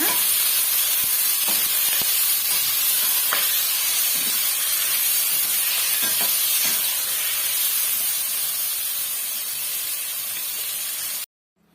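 Tomatoes sauteing in a kadai for mochai kuzhambu, a broad steady hiss of sizzling with a few soft stirring knocks, close and continuous for about eleven seconds before it cuts off abruptly.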